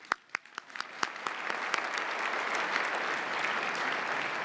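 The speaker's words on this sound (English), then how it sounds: "One more round of applause, please." Applause at the White House Correspondents' Association dinner, starting with a few separate claps and quickly swelling into a full, sustained ovation from a large crowd in a big hall.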